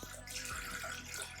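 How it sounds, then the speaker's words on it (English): A gallon of water dumped down a drain pipe during a farmhouse renovation, a close, steady pouring and splashing rush that runs the full length without pause. "I'm gonna dump 1 gallon of water down here and listen for dripping"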